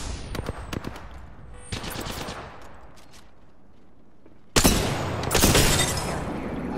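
Gunfire in the Apex Legends video game, with rapid automatic bursts and single shots, then a loud, dense barrage near the end, all close and harsh.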